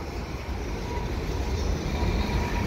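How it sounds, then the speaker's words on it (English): An AMT MR-90 electric multiple-unit commuter train in Montreal rumbles past, a steady low roar of wheels and motors filling the whole stretch at close range without letup. "The old AMT EMUs are in this train."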